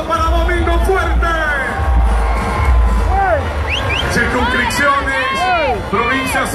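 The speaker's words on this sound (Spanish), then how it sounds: "Fuerte el aplauso para Domingo Fuerte!" Outdoor crowd at a PLD political caravan march in Santo Domingo cheers and whoops loudly and continuously, with shouting voices and dense babble throughout.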